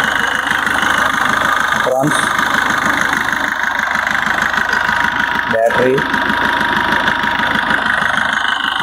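A 2018 Maruti Suzuki Swift VDI diesel engine idles steadily and up close, a continuous mid-frequency rumble with a faint knock, while someone talks over it throughout.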